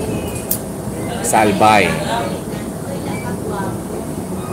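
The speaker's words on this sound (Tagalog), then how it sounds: "Nasa loob ako ng tren." Rumble and rattle inside a moving passenger train in Bicol, Albay, Philippines, a continuous steady drone with a person talking over it close by.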